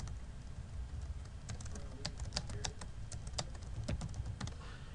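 Keys clatter on a computer keyboard at close range in a burst of uneven clicks, some louder and sharper than others, over a low steady hum from the surroundings, while a note is being entered in an electronic health records program.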